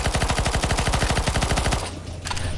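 Automatic gunfire in the CS:GO zombie escape map ze_santassination_v3 while players shoot the boss, a loud rapid machine-gun stream of shots that cuts off near the end, followed by a few scattered bangs.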